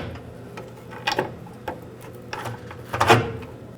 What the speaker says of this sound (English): Form the strap around the tank, and let's put in the mounting bolt.